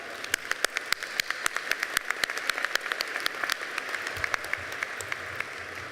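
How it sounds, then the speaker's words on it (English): Scattered applause at an annual meeting honoring star students, with distinct sharp individual claps standing out from a lighter crowd of clapping, fairly close and continuous. "They all deserve a round of applause."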